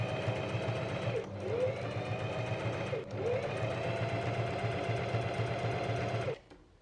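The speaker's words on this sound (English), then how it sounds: "I'm finally done cutting out all the pieces, and this means I'm gonna get to sewing now" Home sewing machine stitching cut fabric pieces from a pattern, a close steady motor hum with rapid needle chatter, briefly pausing twice, then stopping abruptly near the end.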